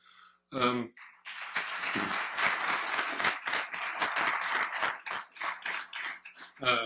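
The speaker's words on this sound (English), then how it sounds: "I'm going to ask if we could hold our applause till the end" An audience at a Holland mayoral debate breaks into a burst of steady, fairly dense clapping that lasts several seconds, with a voice briefly speaking at the start and end.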